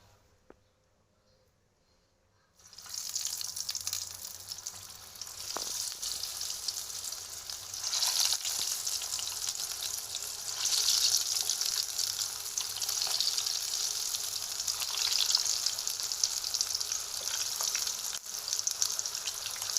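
Misro dough balls fry in hot cooking oil, a close, steady bright sizzle that begins abruptly after a few quiet seconds and keeps crackling with small surges and faint stirring clicks.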